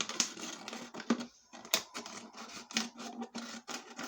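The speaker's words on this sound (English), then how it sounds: "If you get to know your scissors, you'll find they cut better in one direction than the other." Scissors snip around a plastic water bottle in short, close cuts, each crisp crunch of plastic separated by brief pauses, with faint handling scrapes between.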